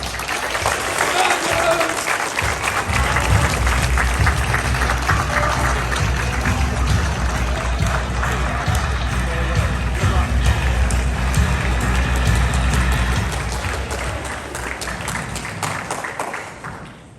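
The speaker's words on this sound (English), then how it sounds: "I do ask if we could all stand and give a big round of applause for our new assembly hosts, Ms. Katie Houston and Mr. Gabe Roy." Students at a high school assembly give a long, steady round of applause, dense clapping with some crowd noise that holds for most of the stretch, then thins and fades near the end.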